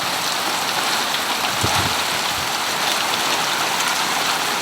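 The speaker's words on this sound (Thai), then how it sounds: "ฝนตกฝนตกแล้ว" Steady rain pours down in a continuous hiss on surfaces, with a brief low thump partway through.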